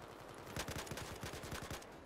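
Rapid automatic gunfire in the Battlefield 4 beta on the Siege of Shanghai map, a sustained burst of about a dozen evenly spaced shots in quick succession, fairly quiet and with no talking over it.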